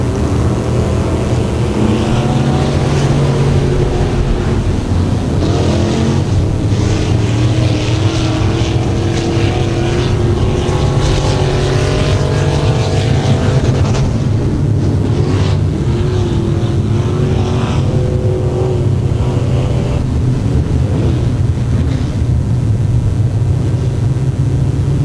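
Pack of IMCA Northern SportMod race cars droning around a speedway under caution before a restart, a continuous loud engine roar with rising and falling pitch as the cars pass, no talk.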